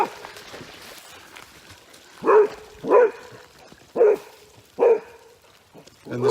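Dog barking in the woods, four evenly spaced loud barks about a second apart with a fifth starting, echoing through the trees over quiet ambience.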